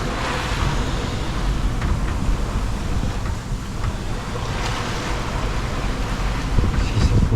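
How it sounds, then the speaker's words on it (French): Sea waves run against the bow of a sailing boat in moderate swell and a 17–20 knot wind, a loud continuous rushing wash with gusty wind noise over the microphone throughout. "Les vagues arrivent sur l'avant."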